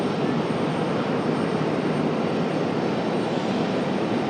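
Boeing 777 jet bound for London at Raleigh-Durham airport, a steady broadband engine roar holding constant and strong throughout, with no voices.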